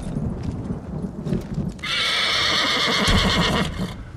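A horse in the video game Ghost of Tsushima, set in feudal Japan, gives a loud, drawn-out whinny after a few soft hoof clops and snorts, with the neigh ringing close and clear for about two seconds.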